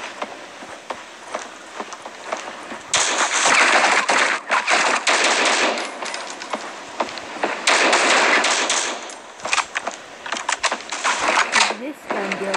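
Rapid automatic fire from an HK rifle in a video game comes in loud bursts, with a player talking in between and over the shots.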